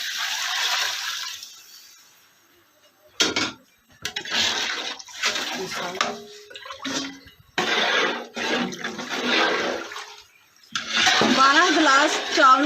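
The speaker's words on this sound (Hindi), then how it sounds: "इसमें पानी डाल देंगे।" Water is poured into a large pot for cooking rice, several separate gushing pours with short pauses between them, close and fairly loud, with a voice speaking over some of them.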